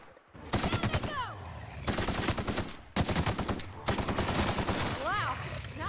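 Rapid, dense gunfire from weapons in the video game The Outer Worlds, loud bursts of shots rattling almost nonstop with brief breaks, plus whooshing effects layered over the firing.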